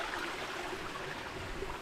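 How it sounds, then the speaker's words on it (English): A clear, free-flowing stream runs on a remote Queensland hiking trail, giving a steady, close rush and trickle of water with no pauses. "Free flowing, super clear water"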